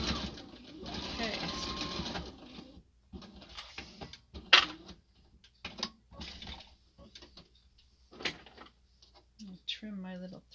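A sewing machine stitches a seam in a short burst of a couple of seconds at the start. A person then talks over light handling clicks and rustles.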